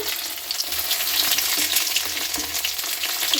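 Chopped onions fry in hot oil, giving a bright, continuous crackling sizzle at a steady level throughout, close up and with no speech.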